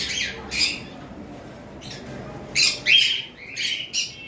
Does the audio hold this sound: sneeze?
no